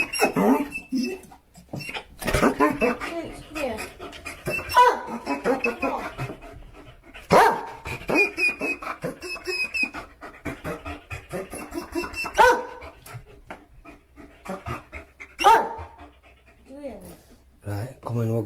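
A dog pants heavily and lets out several sharp barks in bursts, with people talking and a loud bang near the end.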